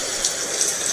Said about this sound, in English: Now it is raining heavily.